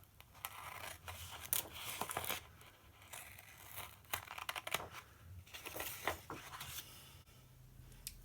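Sharp titanium Westcott scissors trimming the edges of a planner paper page, close-up: a series of short crisp snips and rustling paper crinkles in uneven bursts, quiet overall with no speech.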